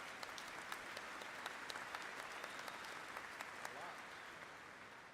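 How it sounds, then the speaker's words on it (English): A large audience at a university spring commencement ceremony applauds, a broad, sustained roar of clapping heard from a distance, steady in level and slowly tapering at the end. "Yeah, round of applause."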